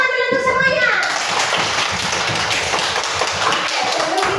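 Second-grade elementary schoolchildren clapping their hands together in a classroom, a dense burst of many small hands after a brief voice at the start.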